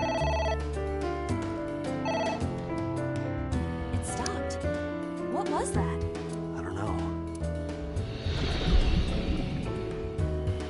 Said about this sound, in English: I want it to not stop ringing.